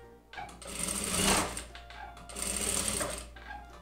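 A sewing machine stitches fabric strips right sides together in two steady whirring bursts, with a short pause between them.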